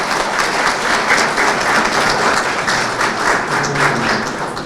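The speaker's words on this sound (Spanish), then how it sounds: "Los aplausos son libres, por supuesto." Audience applause at a book launch ceremony in the National Library, a dense, steady round of clapping filling the hall, with faint murmuring voices underneath throughout.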